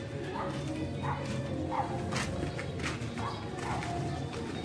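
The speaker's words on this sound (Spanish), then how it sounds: "El perro haciendo desorden." A dog barks repeatedly in short, evenly spaced yaps at moderate distance while making a mess outdoors during a kite-flying outing. Background noise and faint activity sit underneath.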